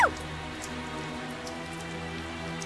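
Rain falling in the fantasy role-playing game Tales of Zestiria, a soft steady patter over a faint sustained musical drone, constant and fairly quiet throughout.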